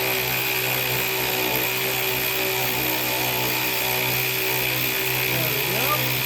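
A power tool runs with a continuous droning whine while working a bolt out of a Mazda Miata shock, close and steady throughout without a break.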